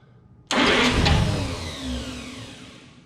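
A 1948 Studebaker engine, unused for 35 years, cranks and catches with a sudden loud burst, revs briefly, then settles into a rumbling idle that gradually quiets.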